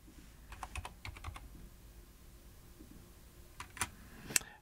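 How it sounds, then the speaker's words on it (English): Typing on a computer keyboard, several quick clusters of soft, close keystrokes separated by short pauses, ending in a few sharper, louder clicks. "We'll just start typing in what we want to say."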